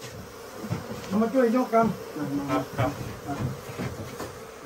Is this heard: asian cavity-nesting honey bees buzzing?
yes